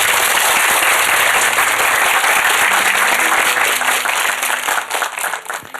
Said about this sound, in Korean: 박수 한번 쳐주십시오, 그러면.